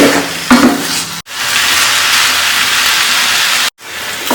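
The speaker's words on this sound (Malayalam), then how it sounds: "ഒരു 5 മിനിറ്റ് ഒന്ന് ഈ എണ്ണയിലിട്ടിട്ടൊന്ന് വഴറ്റിയെടുക്കാം" Chicken pieces sautéing in hot oil, a loud, close hiss of frying broken by two brief silent gaps, with a short clatter near the start.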